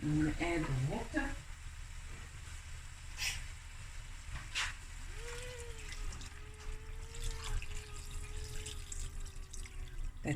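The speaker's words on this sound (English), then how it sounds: "That was the kettle saying hello." An electric kettle hums with a rising then steady whistle-like tone near the stove, beneath ongoing kitchen clatter and bubbling water.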